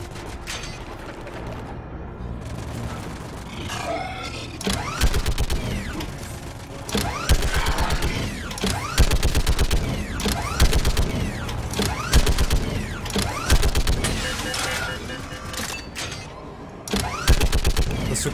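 Chaotic Mass Effect 3 video game battle with heavy booming cannon blasts and rapid bursts of gunfire, dense and loud throughout, punctuated by sharp impacts.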